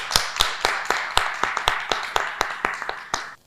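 Audience applause at a women's rights ceremony, a series of sharp, fairly close claps in an uneven rhythm, thinning out and ending after a few seconds, with no talking.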